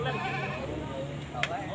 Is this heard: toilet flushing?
no